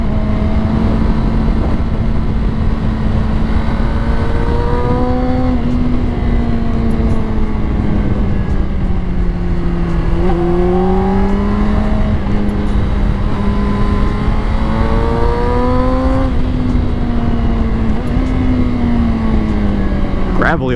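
A 20-year-old Honda CBR 600RR sport bike with high mileage rides through twisty roads, its engine droning steadily and rising and falling in pitch with shifts and throttle changes, loud and close under heavy wind.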